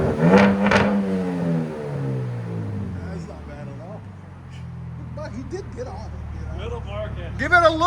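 A 2025 RAM RHO with the 3.0L Hurricane inline-six and an aftermarket exhaust revs hard, rising to a loud growl that fades into a lower idling drone, then gives brief blips near the end. People talk quietly over it.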